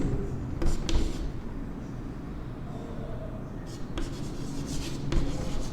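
Marker or chalk writing out a math condition on a classroom board, with intermittent scratchy strokes and taps close by, while someone speaks steadily over them.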